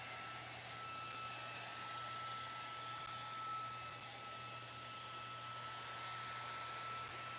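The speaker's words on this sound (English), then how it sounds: "Fans on, fans fast." Electric fans run on a fast setting, giving a loud, steady whooshing rush with a faint constant whine. The sound stays even throughout with no voices.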